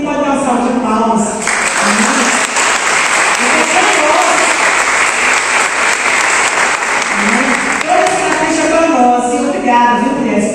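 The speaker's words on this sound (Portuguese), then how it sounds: "Quem pode dar uma salva de palmas?" A church congregation bursts into loud, sustained applause, hands clapping densely throughout, while a voice and other voices carry on speaking over and around the clapping.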